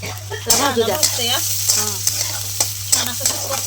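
Onion frying with masala in a pan for a chicken curry, a close sizzle with repeated spatula scrapes and stirring strokes at an uneven rhythm, over a low steady hum.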